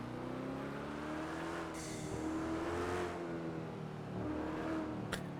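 Car engine humming steadily while driving in GTA V NoPixel roleplay, revving up and easing off in smooth waves, with a short whooshing pass midway and a sharp click at the very end.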